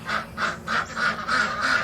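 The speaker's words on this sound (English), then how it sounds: "for the ducks, we just basically had to revise their pen and make it smaller" Ducks in a homestead pen quack repeatedly, about six nasal honking calls in a steady rhythm, moderately close and with no talk.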